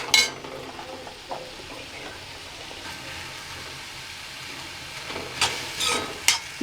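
Tomato and onion being sautéed in an iron kadai, a soft low sizzle with occasional metallic scrapes and stirring clinks from the utensil, growing a little busier toward the end, with no one speaking.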